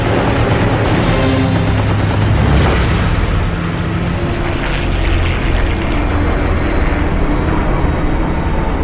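Fighter plane guns firing at night during an aerial dogfight, a dense loud rumbling burst under steady aircraft engine roar, close and continuous throughout.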